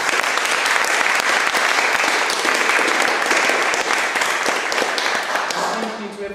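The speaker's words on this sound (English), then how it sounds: "Let's give each other a round of applause again." Sustained audience applause at a school fifth-form concert, dense and loud with many hands clapping together throughout before easing slightly at the end.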